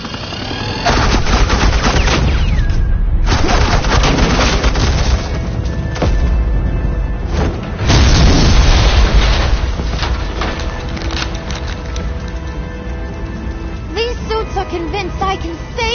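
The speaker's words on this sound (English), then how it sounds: "suppressing fire." Loud, dense suppressing gunfire and explosions from the Batman Telltale video game, sustained bursts and booms filling the mix almost continuously, with a voice briefly heard amid the barrage.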